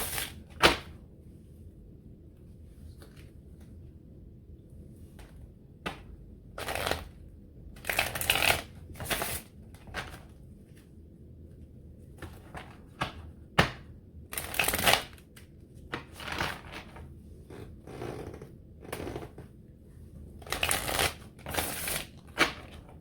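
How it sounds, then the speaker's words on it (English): Tarot cards are shuffled and pulled in bursts of crisp riffling and slapping, separated by quiet pauses, close and clear with no talking. "I'm gonna start pulling your tarot cards"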